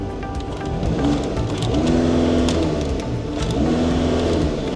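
An Audi A3 engine with a variable exhaust revs and holds a loud, rumbling exhaust note, rising and falling in two surges with no talking.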